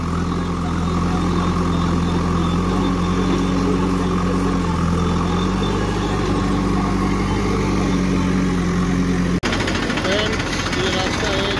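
A tractor engine idles loudly and steadily nearby as a JCB 3DX backhoe loader fills it with mud, and someone talks over the low rumble before an abrupt cut.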